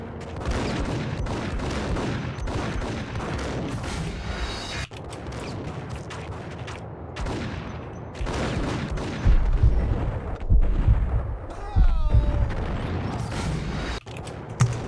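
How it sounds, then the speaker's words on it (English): Shotgun fire in the Max Payne video game, heavy repeated blasts and booms layered over a dense, continuous wash of combat noise for the whole stretch. "These shotguns, man."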